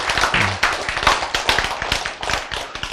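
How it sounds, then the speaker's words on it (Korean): A classroom audience claps in a short, loud burst of overlapping hand claps, with sharp uneven slaps close by and no talking. "박수 쳐."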